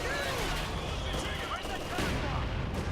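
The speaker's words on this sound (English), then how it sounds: "my men are point blank engaging with these guys with their carbines" Carbine rifles fire at point-blank range in the World War II strategy game Company of Heroes 2, a busy, distant-sounding clatter of shots and booms overlapping in a continuous battle din with voices underneath.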